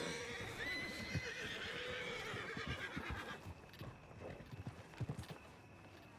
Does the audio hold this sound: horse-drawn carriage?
yes